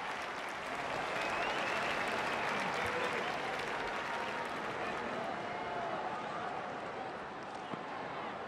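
A cricket crowd in Don Bradman Cricket 14 applauds and cheers a boundary, a dense, steady roar of clapping that carries on throughout.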